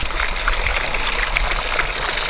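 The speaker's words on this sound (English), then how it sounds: "Mountain water for you, Penyo." A mountain stream flows steadily with a close, bright rushing and trickling sound that stays continuous throughout, with no voices over it.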